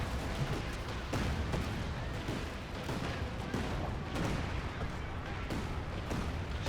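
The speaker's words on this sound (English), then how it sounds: "Artillery's coming in." An artillery barrage in the video game Company of Heroes 2 produces dense, continuous rumbling with repeated heavy booms and blasts throughout, with no talking.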